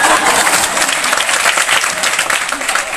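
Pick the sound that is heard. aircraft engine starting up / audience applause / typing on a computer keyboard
audience applause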